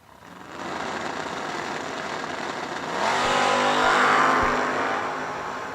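An El Camino and a Camaro launch side by side in a drag race, loud engines roaring and building in a surge before easing off slightly.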